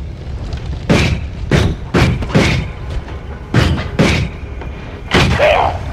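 Bomb blasts in the video game Noita, six heavy thuds in quick succession, each a short boomy burst with a bright crackling tail, loud and close with no talking.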